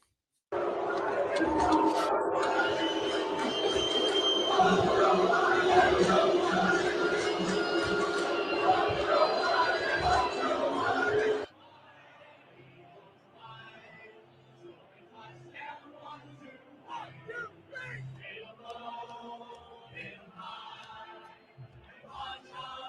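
A crowd boos Jill Biden in Philadelphia: dense, loud crowd noise fills roughly the first eleven seconds, then cuts off abruptly to quieter background talk.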